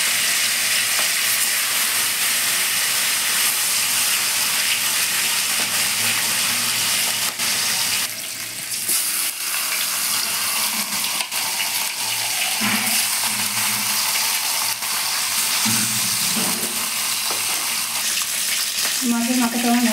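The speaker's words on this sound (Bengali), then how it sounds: "এবার আমি কাতলা মাছের মাথাটা ভেজে নিচ্ছি" A whole katla fish head frying in hot oil for a Bengali cabbage dish, a loud continuous sizzle and spatter up close, with some scraping and stirring along the way and no voices.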